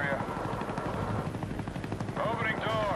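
Huey helicopter in Call of Duty: Black Ops multiplayer, its rotor chop mixed with steady bursts of machine-gun fire and explosions, loud and continuous, with game announcer voice lines over the battle.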